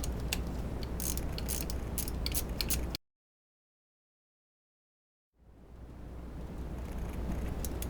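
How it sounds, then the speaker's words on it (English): A small hand ratchet tightens a fuel pressure regulator bolt on a GM 3100/3400 V6 engine, making close, rapid clicking and grinding that breaks off into silence, then returns as a quieter, steadier rasp. "Get that tight, and this is a handy little ratchet."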